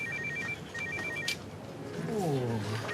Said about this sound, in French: vous répondez pas à votre téléphone?